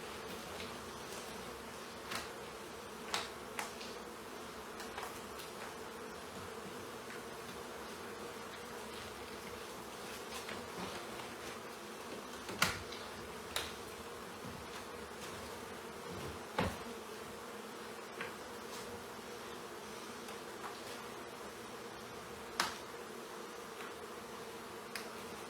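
Honey bees taken out of a chimney in Congleton hum in a steady, dense drone close by, with occasional sharp clicks and knocks from handling comb and frames over the continuous buzz.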